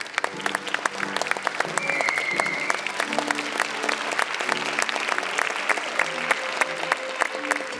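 Big round of applause from the audience at a university graduation ceremony honoring an award winner, steady dense clapping lasting several seconds with a sustained musical tone underneath.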